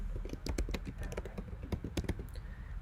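Rapid keystrokes on a computer keyboard, a close, brisk patter of clicks in uneven bursts with no voice over them.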